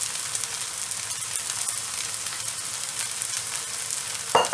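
Bean sprouts hit a hot pan for pad thai with a loud, steady, hissing sizzle that runs throughout, close and bright, ending in a brief clatter.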